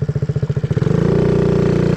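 A motocross motorcycle engine chugs in rapid, evenly spaced pulses, then smooths into a loud, steady idle, close by and alone.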